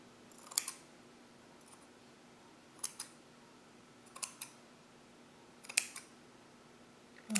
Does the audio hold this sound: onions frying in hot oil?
no